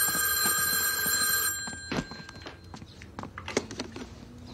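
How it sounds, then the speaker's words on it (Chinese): A telephone's continuous electronic ring sounds for about a second and a half, then cuts off, giving way to soft footsteps and light thumps nearby. "接电话，接电话。"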